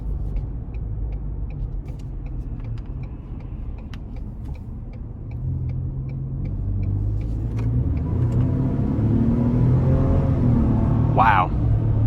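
Ford Expedition Max XLT 2021 with the 3.5-liter twin-turbo engine pulls out of a corner, a steady low rumble that builds in loudness toward the end, with a brief whine-like tone near the close.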